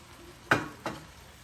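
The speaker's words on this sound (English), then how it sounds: "I'm just going to stir this up" Two quick scraping stirs of smothered shrimp and vegetables cooking in a Power XL, close and fairly soft over a faint background hiss, with no talking.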